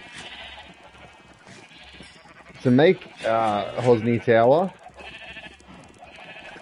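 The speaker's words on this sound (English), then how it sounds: "Now, there was a reason why we needed so many sheep." Sheep in the video game Minecraft let out three or four loud wavering bleats in quick succession at close range, set between stretches of someone talking.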